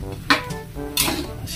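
Carrots stirred in a cooking pot, with two sharp clanks of a utensil against the pot and a soft scraping between them, close by.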